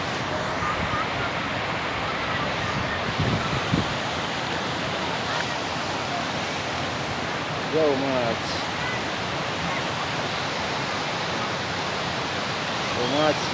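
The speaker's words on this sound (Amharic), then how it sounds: "ሶማች የአላባው ፏፏቴ መጥተናል።" Steady broadband roar of a waterfall fills the scene at constant loudness, with faint voices occasionally heard beneath the rushing water.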